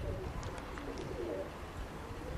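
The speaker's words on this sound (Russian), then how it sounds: "голуби не высоко, потому что там дымка" Domestic pigeons flying over a house at around 100 metres in hazy sky, heard as faint soft coos and light bird sounds over a low outdoor background.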